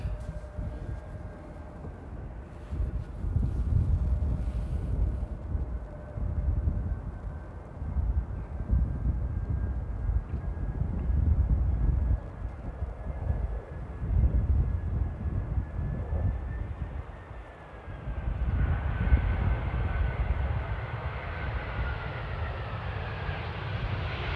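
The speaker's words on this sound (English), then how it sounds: "behind that we have KLM flight 602 coming in from LAX Los Angeles" A KLM flight from Los Angeles landing at Amsterdam Airport, a steady low jet engine rumble with a faint whine, holding level before dipping briefly and rising again in a broad distant roar.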